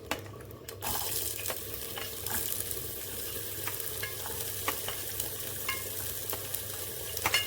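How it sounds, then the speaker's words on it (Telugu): Onions frying in hot oil with mustard seeds and cumin in a pan for kadak idly, a dense steady sizzle with scattered stirring clicks, loud and close, no speech. "ఇప్పుడు ఇందులో ఆనియన్స్ వేసుకుందాం."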